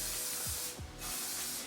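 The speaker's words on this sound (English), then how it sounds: "I'm going to just spray some of that with the Beautyworks spray." Beautyworks hair spray hisses from the can onto hair in two short bursts with a brief pause between, close and soft, with faint handling noise.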